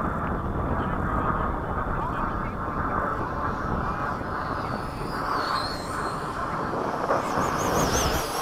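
An old Sabreliner jet passes overhead as a steady, broad roar lasting throughout, heard over open-air wind at a radio-control model flying field, with people talking nearby.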